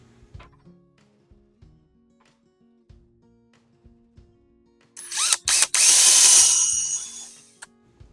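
A power drill whirs loudly for about two seconds, boring a pilot hole for a screw while installing cockpit frames, with a few quiet taps and knocks before it.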